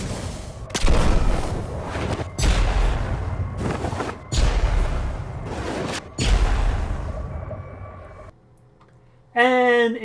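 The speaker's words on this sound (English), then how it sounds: "Thermite Grenade, a grenade that sends forward a burning light of fire." Thermite Grenade from the video game Destiny going off in a series of loud booming bursts with crackling fiery tails, four or five heavy blasts in a row, then a brief lull before a bright synthetic chime.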